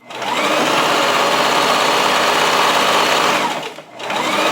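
A sewing machine runs continuously, stitching a felt belt for a winter coat, its loud, even motor whir holding steady before a brief dip and restart near the end.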